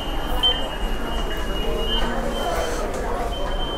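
Interior of a moving metro train in South Korea, with a steady broadband rumble and rail noise throughout and a faint high whine above it, while voices murmur in the carriage.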